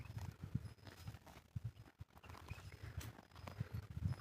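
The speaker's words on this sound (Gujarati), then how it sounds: "જો ભેંસો ચેવી ચરે છે" Buffaloes grazing and walking in a farm field, their hooves making faint, irregular low thuds at a distance with quiet rustling between steps.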